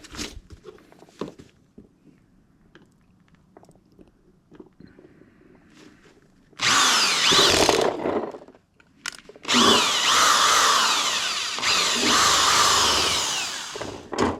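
A power drill boring a hole during a car-detailing garage job, coming in two loud, sustained high-pitched bursts: a short run of about a second, a pause, then a longer five-second drilling run, after quiet handling noises.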